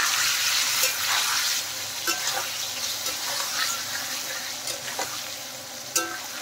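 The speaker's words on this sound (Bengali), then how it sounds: "তো দেখেন পনিরটা ভাজা হতে থাক" Paneer pieces frying in oil with turmeric while being stirred, a loud close sizzle broken by scraping clicks of the spoon against the pan.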